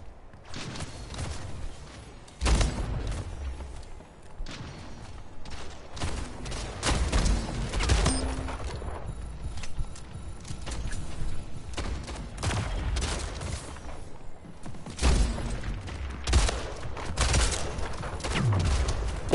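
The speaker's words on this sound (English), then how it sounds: "I missed two shotgun shots" Rapid shotgun blasts and other gunfire in the arena shooter Splitgate, repeated loud bursts and thumps over busy game noise, with no clear talk.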